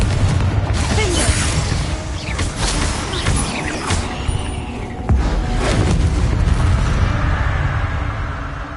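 Spell explosions from Bombarda and Confringo in the wizarding game Hogwarts Legacy: continuous loud booming blasts and crackling bursts that roll on for several seconds, thick and rumbling, with no voices over them.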